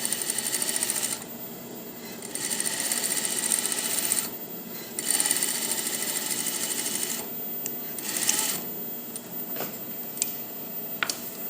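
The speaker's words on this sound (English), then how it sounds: "we're going to sew a quarter seam. So just back tack a little bit and we're sewing a quarter." A sewing machine stitches a quarter-inch seam on a dress skirt, running in loud rapid bursts separated by short pauses, with the motor whirring close by and no talking.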